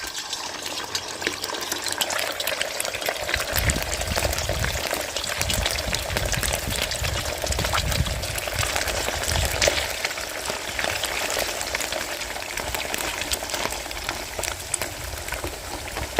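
Pieces of fish fry in hot oil in a home kitchen, a steady close sizzle and crackle running throughout with no talk.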